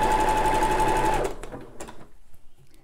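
A sewing machine runs a stretch stitch along a pyjama top with butterfly sleeves, a steady close mechanical whirr for just over a second before stopping, followed by faint handling rustles.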